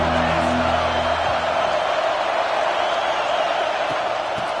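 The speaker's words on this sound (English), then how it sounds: "This crowd ready to make its presence known." Stadium crowd at a college football game roars steadily throughout, a dense continuous wash of cheering with a low sustained tone near the start and no clear talk.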